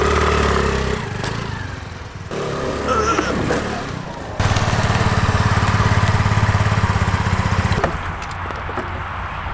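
Engine of a Honda Navi motorbike running, a loud close buzzing drone that shifts in pitch and steadies into an even idle-like rumble, then changes again near the end.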